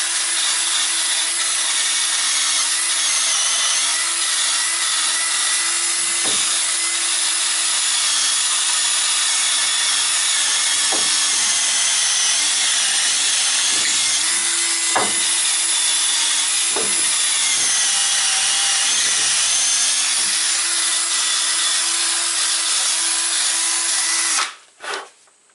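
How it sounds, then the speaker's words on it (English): A small drill with a cleaning attachment grinds steadily against the mating surface of a wheel hub on a 2001 Chevy S10, a continuous close, loud whir with brief pitch shifts and scraping bites as it works around the hub. "Let's use a little drill."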